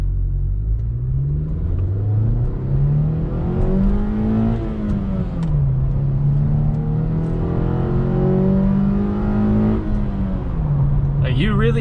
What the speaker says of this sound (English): You definitely hear the engine more, you hear the induction noise more, you can hear your shifts better.